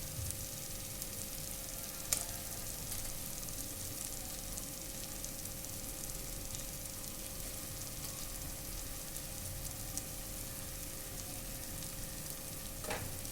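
Sliced boiled eggs sauté in masala for egg biryani, giving a steady, soft, even sizzle throughout with a couple of faint utensil clicks and no talking.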